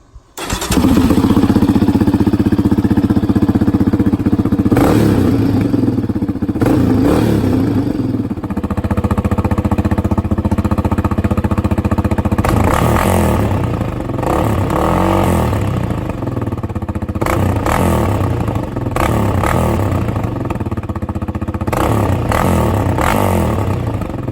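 A Yamaha Raptor 700R ATV with its exhaust baffle removed, started and left running: a loud, close, continuous single-cylinder rumble with several sharp throttle blips and revs, and no talking.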